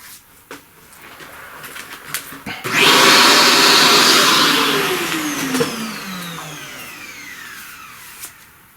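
A vacuum cleaner nozzle sucks loose pastel dust off a flower drawing on paper, switching on with a loud steady whoosh that holds for a few seconds and then winds down in a falling whine.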